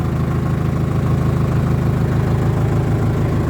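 A 1989 Ford Transit with a 2.5-litre diesel engine idles close up, a loud steady low rumble with a fast even diesel clatter and no talk over it.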